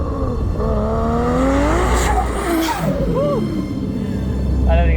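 A Toyota Supra Mk4 on a spirited drive, its engine loud and revving hard through rising and falling pitch sweeps, with tyre noise and a steady roar underneath.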